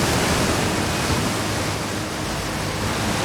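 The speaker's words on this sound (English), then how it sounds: "Is the waterfall way too loud?" Waterfall in the video game Outer Wilds, a loud, constant hiss of rushing water that fills the scene with no break and no voices.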